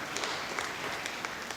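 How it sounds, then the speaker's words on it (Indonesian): An audience at a scout orientation event applauds, dense clapping of many hands heard up close, steady throughout the short burst. "Tepuk tangan, luar biasa."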